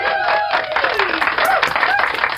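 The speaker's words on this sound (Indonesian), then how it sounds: "tepuk tangan dulu untuk BSJL" Crowd applause at a political rally, loud clapping and cheering mixed with shouting voices and a rising whistle-like tone.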